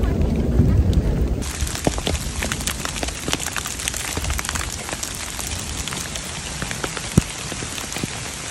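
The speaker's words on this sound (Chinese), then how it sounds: "现在雨又比较小了" Steady rain pours during a trek on the Mardi Himal route in Nepal's Himalayas, a dense, close patter of drops on surfaces that holds loud and even throughout, with a brief shift in tone near the start.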